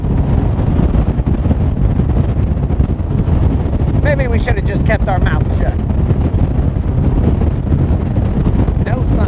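Strong, steady wind buffets the microphone throughout while bass fishing, a constant low roar with a person speaking briefly over it midway.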